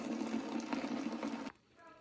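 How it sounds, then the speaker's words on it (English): Running water rinses engine parts from a Pontiac wagon's four-barrel carburetor after ultrasonic cleaning, a steady close splashing and gushing that cuts off abruptly near the end, leaving only faint residual dripping. "Gonna have to rinse everything."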